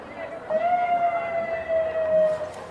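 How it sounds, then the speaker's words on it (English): Fire department siren at a Christmas parade, a steady sustained wail holding one pitch for a couple of seconds, heard at moderate distance over outdoor crowd ambience. "There's something about the sirens. Kids love the sirens."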